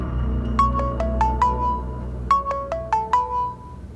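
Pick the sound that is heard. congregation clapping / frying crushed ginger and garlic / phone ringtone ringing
phone ringtone ringing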